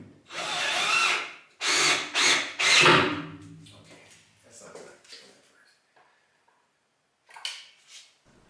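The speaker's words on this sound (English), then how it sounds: "drill bit to drive screws during the final assembly" A power drill drives screws into a wooden railing during final assembly, with several loud whirring bursts up front and then quieter tool handling and rubbing, plus a short burst near the end.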